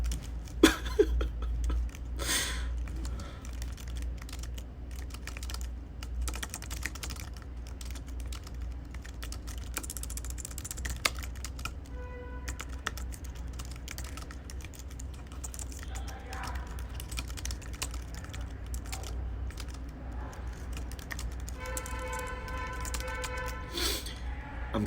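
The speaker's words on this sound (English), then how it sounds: "I'm crying as I'm typing." Keys clatter on a computer keyboard in rapid, irregular bursts of clicks close to the microphone, running steadily over a low background hum.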